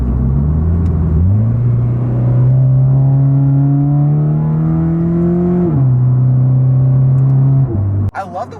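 Modified car exhaust with a loud, aftermarket setup revving: a deep, steady droning rumble rising in pitch and holding, dropping once, then cutting off abruptly near the end.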